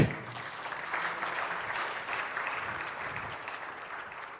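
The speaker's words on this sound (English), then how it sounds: "For everyone in this room, a warm applause for yourself." Audience at an Ethiopian digital agriculture roadmap launch event applauding, a steady wash of clapping from a room full of people that holds for several seconds before trailing off.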